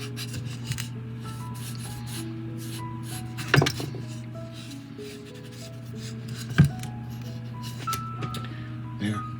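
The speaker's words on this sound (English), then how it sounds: "we're going to sand it some more, but I just want to make the seam line invisible." Sandpaper rubs along the seam line of a plastic 1:400 scale model ship hull in steady, soft scraping strokes, close up, over a low steady hum with a couple of sharp knocks.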